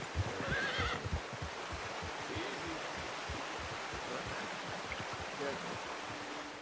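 Steady rushing water in the video game Red Dead Redemption 2 runs throughout, with horse hooves clopping and a brief whinny near the start.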